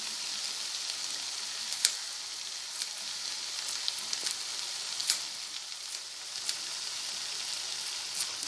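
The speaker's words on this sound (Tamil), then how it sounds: "இதையும் சேர்த்து நல்லா வதக்கிக்கலாம்" Tomatoes sautéing for tomato chutney in a pan give off a steady close sizzle with small pops and crackles scattered through it, and no talk.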